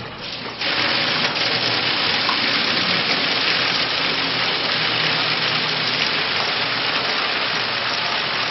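Water surges on after a brief quiet start and rushes through a Navigator thermostatic emergency mixing valve, a loud, steady hiss that holds unbroken to the end.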